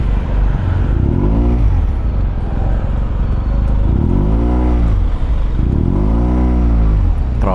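A Yamaha TMAX 560 scooter's engine sounds through stop-and-go traffic, its note rising and falling in repeated revving surges that swell and fade with loud, close wind and road noise.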